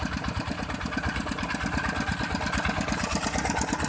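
Engine-driven water pumps, one of six set in a row, run steadily while draining a flooded 400-rai rice field; a loud, continuous mid-pitched engine chug with a fast regular beat and no pauses.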